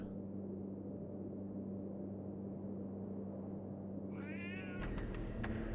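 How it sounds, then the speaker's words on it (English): A cat in a brain-puzzle video game lets out a single short meow near the end, heard close over a steady low hum. "thanks for not seeing anything, cat, but thanks for giving us a sound"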